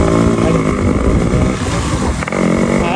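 A Yamaha RX motorcycle engine runs loud and close with a buzzing, steady note and slight revving fluctuations, with no voices over it.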